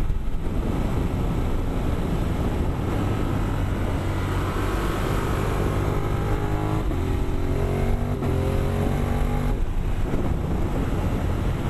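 A 2017 Ducati Monster 1200 S motorcycle engine sounds steadily under riding with a quickshifter, a continuous loud rumble whose pitch climbs and drops through several gear changes, with no talking.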